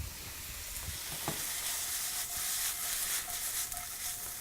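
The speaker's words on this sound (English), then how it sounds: "I'm going to stir my noodles." Noodles being stirred as they brown in a hot pan, with a steady close sizzle of frying throughout and a few soft scraping strokes of the utensil.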